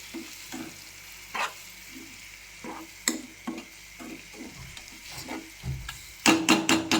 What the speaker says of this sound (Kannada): ಒಳ್ಳೆ ಫ್ರೈ ಆಗಲಿ, ಸ್ಮೂತ್ ಆಗಲಿ